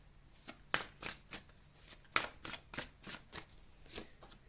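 Tarot cards shuffled for a reading, a series of soft, close riffling bursts at an uneven pace, quiet and alone without any voice.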